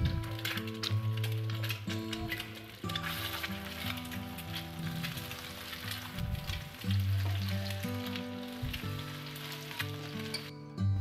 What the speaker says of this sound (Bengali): তারপর আমি একটা ডিমের ভুজিয়া করে নেব।